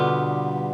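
A G seventh chord rings on a guitar, a single full sustained strum with a slightly effected, reverberant tone, under a second long and with no voices.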